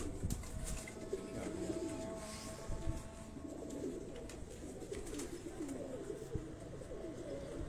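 Pigeons coo softly and repeatedly in a calm loft setting, low, rolling calls overlapping at a moderate distance over faint background noise.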